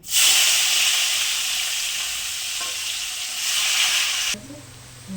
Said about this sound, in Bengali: পেঁয়াজ রেখেছিলাম, পেঁয়াজটা একটু ভেজে নেব